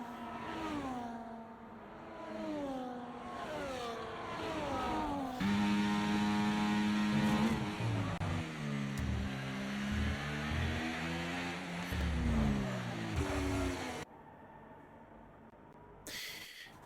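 Formula 1 race cars lapping early in a Mexico Grand Prix sim race, engine tones climbing and dropping through shifts, with a loud sustained high-revving stretch; the sound cuts abruptly near the end, no talk.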